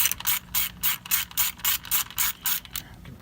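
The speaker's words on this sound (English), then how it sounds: "you just want to get a 7mm socket and socket wrench. And we'll just get this thing right off here." A ratchet wrench with a 7mm socket clicks in a steady run of about nine quick strokes as it backs a bolt off a vehicle. The sound is close and loud, with no voices.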